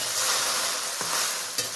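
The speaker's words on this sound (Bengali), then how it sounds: "ঢেঁড়সটা কতটা ভাজা ভাজা হয়ে গেছে দেখুন" Okra frying in a pan gives a close, steady sizzle, with two brief scraping knocks from stirring.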